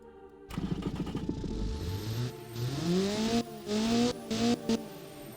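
A loud, raspy video-game car engine with no mufflers revs up with rising pitch, drops and climbs again through gear shifts, with a brief tire squeal.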